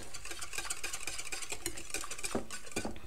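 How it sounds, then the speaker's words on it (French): A spoon or whisk scrapes and stirs continuously through coconut cake batter in a bowl, giving a close, busy texture of soft clinks and swishes. "On mélange un peu."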